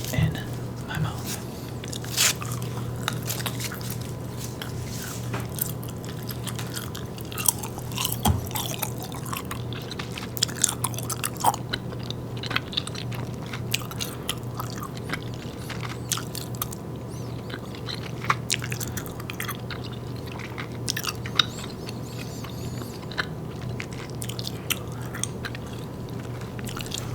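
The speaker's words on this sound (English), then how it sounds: "So I'm going to take this stick of Starburst strawberry juicy fruit gum and dunk that in my mouth." Starburst strawberry Juicy Fruit gum chewed close to the microphone, with soft wet smacks and squishy crunches repeating steadily over a low constant hum throughout.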